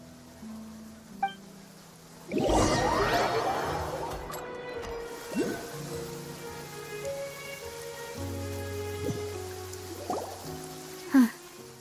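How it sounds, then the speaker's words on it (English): Steady rain falling in the Genshin Impact video game, a broad hiss that swells loudly after a quiet start and continues under scattered game sound effects and soft tones, with a few sharper splashes near the end. "It's been raining non-stop for a few days now."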